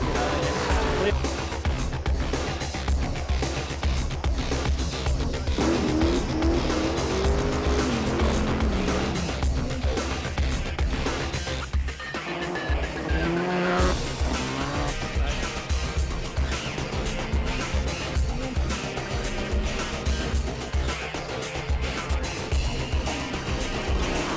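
Rally sprint cars at the 2003 Ashley Sprint at Canterbury roar past with engine revs rising and falling and brief tyre squeal, under near-constant commentary.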